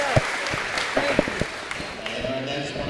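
Scattered applause and a few sharp claps rise from a small audience at a weightlifting meet, moderately loud over a steady room din with a voice speaking.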